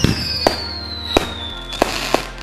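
Fireworks in GTA V go off with several sharp, booming bursts at uneven intervals over a steady whistling, rushing tone, close and loud, with no talking.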